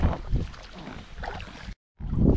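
Boat out on a lake, with close water sloshing and gurgling against the hull amid wind rumble on the microphone, broken by a brief dropout.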